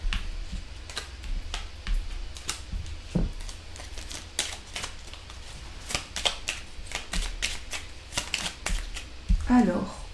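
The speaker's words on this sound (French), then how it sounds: "Alors, on va tirer quelques cartes." Tarot cards are shuffled and drawn in a quick flurry of soft riffling and light papery snaps, close and fairly quiet, with someone talking over them.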